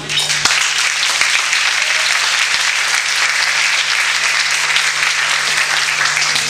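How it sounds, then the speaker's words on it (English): A comedy club crowd at Laff's in Tucson bursts into loud, sustained applause for an arriving comic, a dense wash of many hands clapping close and steady throughout. "give a big warm round of applause for Myke Dehu"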